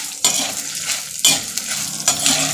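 Dried red chillies and coriander seeds fry in a pan for a Tirunelveli-style chutney, giving a close, crackly sizzle broken by three sharp scraping stirs of a spoon at roughly one-second intervals.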